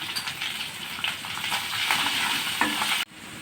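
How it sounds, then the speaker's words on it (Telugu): Onion and ginger frying in a pan for a masala curry, a steady close sizzle with stirring scrapes that cuts off abruptly near the end. "ఉల్లిపాయ అయితే బాగా వేగింది కదా కొంచెం అల్లం వేసుకున్నాము"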